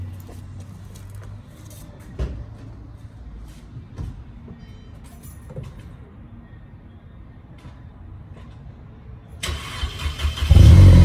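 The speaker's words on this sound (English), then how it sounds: "So how about a cold start real quick, huh?" A low, steady rumble in a small tunnel gives way near the end to a Mercedes engine with a cold air intake cranking and catching, then roaring loudly as it fires up from cold.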